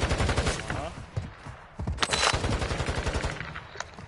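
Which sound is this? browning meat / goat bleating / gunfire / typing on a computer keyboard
gunfire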